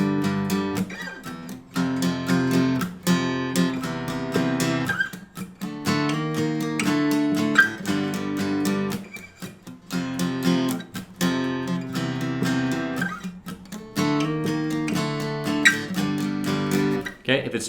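Acoustic guitar strummed through the chords of a song, a steady down-up rhythm of full ringing chords with brief pauses between phrases, played close and alone with no talking.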